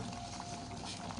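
Squid in tomato sauce bubbling at a steady boil in a pan, a continuous broadband simmering hiss with small pops throughout, close and even with no talk.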